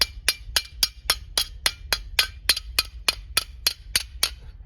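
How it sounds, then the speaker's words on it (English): Hammer striking the rusted metal of a smoker in a quick, even series of about eighteen sharp, ringing metallic blows, close and loud with no talking. "So the way I'm hammering it, it'll curl back a little bit"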